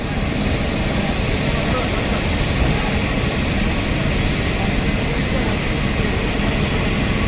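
A SpiceJet airliner's jet engines give a steady, loud broadband roar that stays even and unbroken across the whole stretch, with no clear rise or fall.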